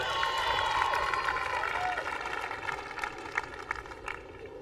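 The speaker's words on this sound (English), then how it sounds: "The crowd getting really involved in the knockup, applauding every shot" Wimbledon tennis crowd applauding and cheering during the warm-up before a 1993 fourth-round match, a steady wash of clapping filling the stands with a few sharper bursts near the end.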